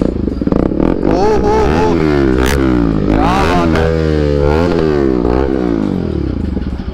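A Bajaj Pulsar RS 200 motorcycle fitted with a loud aftermarket exhaust revs hard close by, with repeated rising and falling throttle blips that stay loud throughout, while a man briefly exclaims over it.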